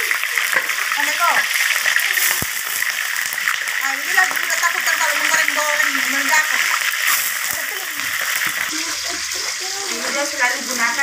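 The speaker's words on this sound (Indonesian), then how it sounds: "Nah, kita goreng dulu ikannya ya." Mackerel frying in hot oil in a wok over a gas flame, a loud continuous sizzle with crackling and spattering pops, close and steady throughout, with a voice speaking briefly over it.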